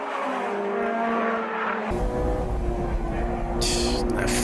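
Tuned Honda S2000 in the Assetto Corsa racing game, its engine a loud, steady high-revving drone that shifts to a harsher, busier tone partway through, with a brief hiss near the end.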